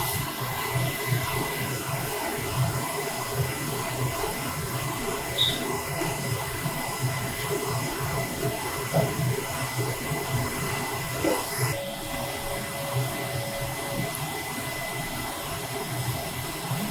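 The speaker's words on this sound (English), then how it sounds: "the printer starts to do the head cleaning automatically" A continuous mechanical whirring and hissing hum runs throughout, with a brief shift in tone partway, from an inkjet printer's strong head-cleaning cycle.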